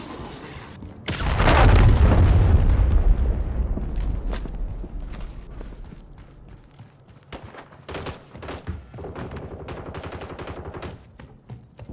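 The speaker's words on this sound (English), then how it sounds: "Hostiles launched a cruise missile" A heavy boom from a cruise missile strike in Modern Warfare 3 team deathmatch on the Terminal map, a loud rumbling blast that swells and slowly fades, followed by scattered gunfire cracks in the distance.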